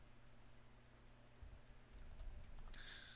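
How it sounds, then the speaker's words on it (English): Keys tap on a computer keyboard in a quick, irregular burst, soft and close in a quiet room, with a couple of louder clicks near the end and no voice. "I'm just typing it up."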